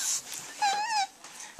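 A dog gives a short, high whimpering whine, close and fairly loud, lasting under half a second amid brief background noise.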